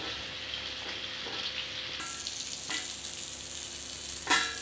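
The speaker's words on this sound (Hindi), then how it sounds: "सभी परवल को हम गोल्डन ब्राउन होने तक फ्राई कर लेंगे।" Pointed gourds (parwal) fry in oil until golden brown, giving a soft, even sizzle with a few light crackles and a sharper spatter near the end.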